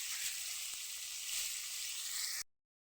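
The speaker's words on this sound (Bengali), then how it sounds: "ভাজা হয়ে গেছে যে এক পাশ, আর এক পাশ উল্টিয়ে দিলাম" Amudi fish sizzles and crackles steadily in hot oil in a pan, a loud, continuous frying hiss with a few soft pops, running alone for over two seconds before cutting off abruptly.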